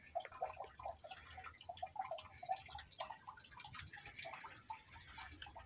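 Water spills steadily from the outlet pipe of an outdoor koi pond, a soft continuous trickle with rapid drip-like splashes, faint and fairly distant against light background ambience.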